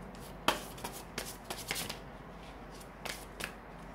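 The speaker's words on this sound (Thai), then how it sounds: "แจกไพ่ Oracle ก่อนนะคะขอ3ใบนะคะ" Oracle tarot cards are shuffled and dealt by hand. A quiet, close flurry of papery flicks and slaps follows one sharp snap, with a few more card taps toward the end.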